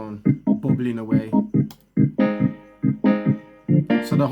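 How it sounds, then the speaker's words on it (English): A choppy reggae organ bubble pattern plays short, bouncing chords in a quick syncopated rhythm, each stab clipped off, loud and up front on its own. "And there's the organ on its own, bubbling away."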